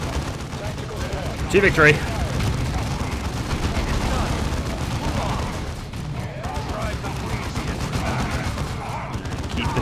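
Sustained gunfire crackles through a Dawn of War II battle as space marine squads fight, dense rapid shots rolling continuously over a low rumble, with a voice speaking briefly over the din.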